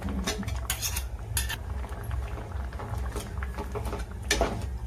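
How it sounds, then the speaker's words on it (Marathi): Khoa being mixed into a carrot and milk mixture in a pan for carrot barfi: repeated clinks and scrapes of a metal spoon against the vessel, close and uneven, over a soft wet stirring sound, with no voices. "आता आपण ही खवा बनवून घेतलेला तो खवा मिक्स करू"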